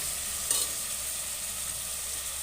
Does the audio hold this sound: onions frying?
yes